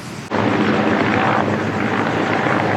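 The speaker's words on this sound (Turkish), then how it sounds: "Şu anda da bir tane yangın söndürme helikopteri gidiyor arkadaşlar." A firefighting helicopter flies toward a forest fire in the Kaz Mountains. Its loud, close rotor and engine roar starts abruptly and holds steady without talk.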